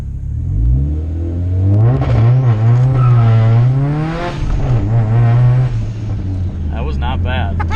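A turbocharged Honda CR-V launches from a stop with the engine revving loudly and rising in pitch, tires spinning briefly, while people talk over it.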